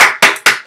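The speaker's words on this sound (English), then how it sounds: "Can we give a round of applause?" A few sharp, loud claps very close by in a church gathering, sounding in a quick regular rhythm with no voices.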